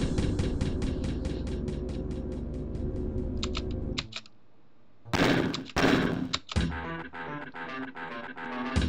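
Gunfire from the Doom 1.1 video game running in an old QEMU emulator bursts out loud and sharp in rapid clusters, preceded by a steady rhythmic run of keyboard-like clicks and a short pause.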